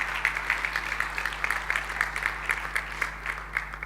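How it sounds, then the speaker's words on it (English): An audience at a forum on displacement gives sustained, moderately loud applause, with clear individual claps and a faint steady hum underneath. "A round of applause for her again"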